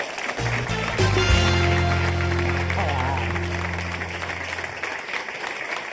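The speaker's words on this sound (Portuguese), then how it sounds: "Um aplauso para ela e bem-vinda." A television studio audience applauds a guest author in a Portuguese talk show, with a musical jingle sounding over the steady clapping.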